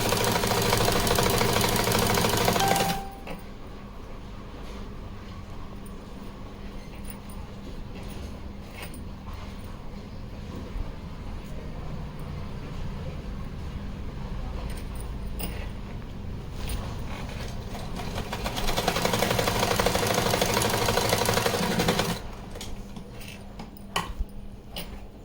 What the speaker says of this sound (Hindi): इस तरह से कपड़े को सेट करते हुए सिलाई लगा लेंगे।